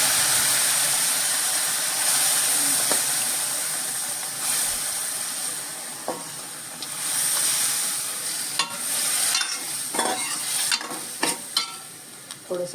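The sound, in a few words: cooked dal and tondli added to sizzling tempering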